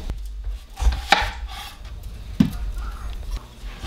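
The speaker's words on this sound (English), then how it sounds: "now we're gonna chop up our onion" A knife chops an onion on a cutting board in a home kitchen, giving a few sharp, close thuds spaced irregularly over a faint background hum.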